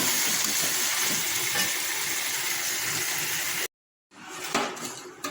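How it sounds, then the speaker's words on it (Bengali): Water poured into a hot pan of browned, well-fried chicken sends up a loud, steady sizzling hiss for several seconds, cut off abruptly before a shorter, quieter burst of sizzle returns. "এবার জলটা দিয়ে দেবো"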